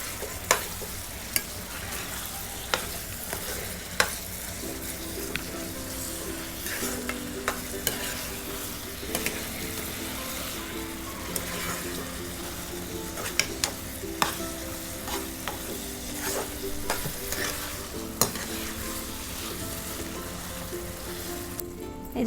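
Carrot halwa with sugar being stirred in a pan, a steady scraping and bubbling sizzle with sharp utensil knocks against the metal recurring every few seconds, close and alone.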